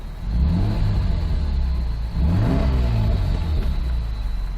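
A manual-swapped MKIV Toyota Supra drives along with a steady low engine rumble, a faint thin high whine from a pilot or throwout bearing running underneath the whole time.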